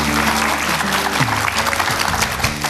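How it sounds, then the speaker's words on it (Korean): Studio audience at a televised lecture applauds to welcome the lecturer, a steady wash of clapping with background music tones underneath, loud and continuous throughout. "큰 박수 부탁드립니다."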